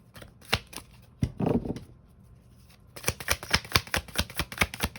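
Tarot cards shuffled and dealt during a reading: a few crisp taps and a short riffling burst, a quiet pause, then a quick rhythmic run of sharp card snaps laid down one after another, close and fairly loud.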